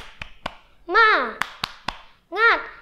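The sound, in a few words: children clapping a rhythmic spirit clap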